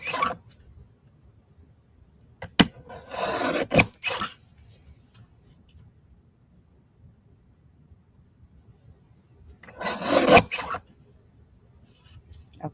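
Paper for a handmade card being trimmed on a cutter, heard as a few short scraping, slicing passes with sharp clicks around them, close and fairly loud against quiet pauses, with no talking.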